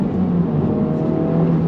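Engine of a 2023 Honda Civic Type R holding revs with slight rev hang, a steady loud droning hum that stays level throughout with no speech.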